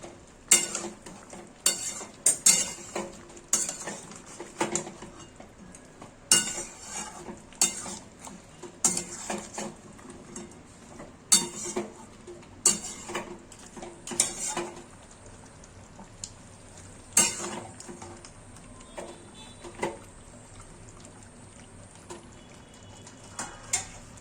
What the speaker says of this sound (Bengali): নেড়ে দিচ্ছি আমি।